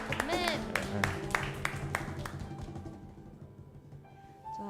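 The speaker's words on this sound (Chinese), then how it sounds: "我们拍掌将掌声献给在天上的父" A worship congregation claps hands in a series of sharp, evenly spaced claps that gradually fade, mixed with voices and a held musical tone.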